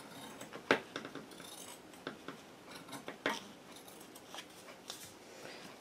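Dull scissors that need sharpening cut out a square of fabric, giving soft, close snips and rustling in an uneven rhythm of separate cuts.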